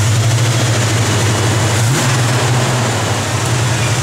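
A 1970 Buick Gran Sport engine idles on choke, a loud, steady low rumble with a regular pulsing beat and a brief dip in tone partway through.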